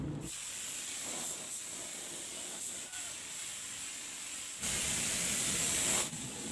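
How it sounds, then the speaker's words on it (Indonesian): Spray gun applying black-pigmented sanding sealer to a bird cage, giving a steady close hiss in several bursts with brief pauses and a louder stretch near the end, no voices. "ini kita sanding sealer dulu ya dengan sanding sealer hitam karena mau naik cat hitam"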